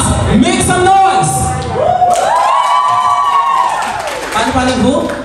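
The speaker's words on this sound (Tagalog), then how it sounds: "Magpalakpakan na may kasamang hiyawan!" A birthday celebration crowd in a hotel venue claps and cheers, a loud swell of shouting and applause rising beneath an event host's amplified voice, with excited voices filling the room.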